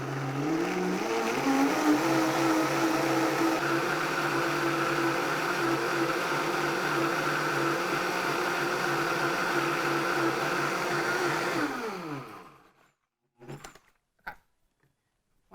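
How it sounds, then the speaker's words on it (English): A blender whirs loudly and steadily, blending the base of a vegan boozy s'mores milkshake for about twelve seconds before cutting off abruptly, followed by a few faint knocks. "So I'm gonna blend this till it's smooth"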